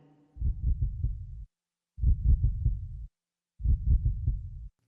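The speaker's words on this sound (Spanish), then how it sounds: "el latido crecía cada vez más y más fuerte" A heartbeat sound effect throbs in three separate bursts of rapid, low, muffled thumps, each cluster loud and heavy, with silent gaps in between.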